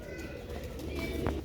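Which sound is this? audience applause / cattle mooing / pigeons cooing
pigeons cooing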